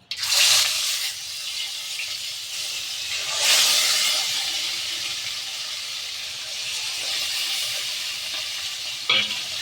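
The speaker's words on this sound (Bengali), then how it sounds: "এবার আমি একে একে মাছগুলো দিয়ে ভেজে নেব।" Pieces of katla fish sizzle and hiss steadily in hot oil seasoned with a little salt and turmeric, a continuous bright frying crackle that swells as each piece goes in, with occasional stirring and no talk.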